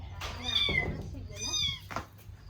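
A cat meows two or three times close by, drawn-out and plaintive, with faint background noise between the cries.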